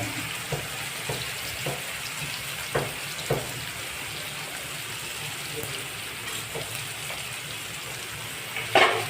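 Turmeric and red chili sautéing in a hot pan, a steady close sizzle with a few soft stirring knocks throughout.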